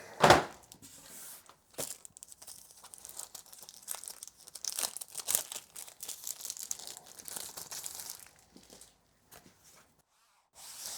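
A Razer BlackWidow V4 Pro 75 keyboard wrist rest is unwrapped from its packaging, with irregular crinkling, rustling and tearing of plastic and paper, fairly close and moderately loud, in bursts with no talk.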